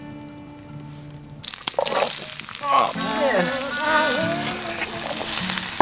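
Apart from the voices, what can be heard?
shakshuka sizzling in a frying pan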